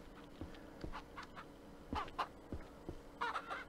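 Chicks and hens in the farming video game Ranch Simulator: a faint scatter of short clucks and cheeps, with some brief squawks near the end, sounding alone.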